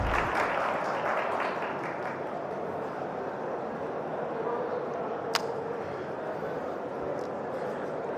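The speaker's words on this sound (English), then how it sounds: "let's have a huge round of applause" Crowd at the 2020 Hyundai Creta launch during the Auto Expo applauding as a Hyundai Motor India executive is welcomed, steady moderate clapping across a large hall with some talk over it.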